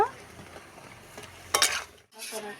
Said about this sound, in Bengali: দেখুন এই ছোলা কচুটাকে এইভাবে আমি ভেজে নেব